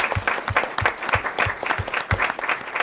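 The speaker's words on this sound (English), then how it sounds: "let's give Craig a round of applause" An audience at a board recognition meeting claps for an honoree, a lively patter of individual hand claps with a loose rhythmic pulse, fairly close and sustained for a few seconds without talk.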